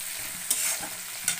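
Tomato sizzles and fries in a pan with a steady crackle, broken by two quick scraping stirs, close up with no voices.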